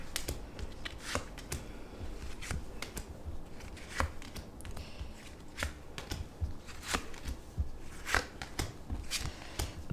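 Tarot cards are shuffled by hand in a close, continuous run of crisp riffling and slapping bursts, steady and rhythmic, with no voice over them.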